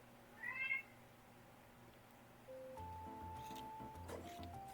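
A cat named Rusty gives a short, clear meow near the start, alone over quiet room tone, followed by a steady hum and faint background tones.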